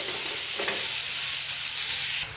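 Cooked yellow moong dal dropped into a hot pan for chutney gives a loud, steady sizzle and hiss, with a faint stirring scrape partway through.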